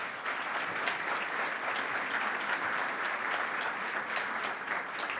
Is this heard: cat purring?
no